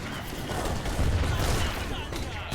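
Cannon fire tearing into infantry in Age of Empires III, a dense, rumbling barrage of overlapping booms and gunfire, loud and unbroken through the brief moment.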